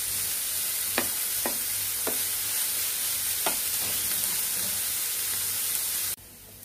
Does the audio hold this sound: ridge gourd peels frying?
yes